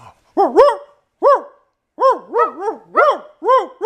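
A person imitates a dog barking, giving a string of about six short, yelping bark-like calls in uneven bursts, loud and close with brief pauses between them.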